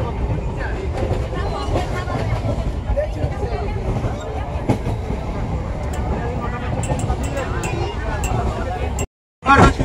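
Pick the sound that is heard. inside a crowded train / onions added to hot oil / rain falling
inside a crowded train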